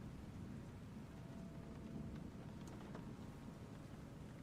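Steady rain beats against a window pane, a continuous soft hiss with low rumbling undertone and no voices.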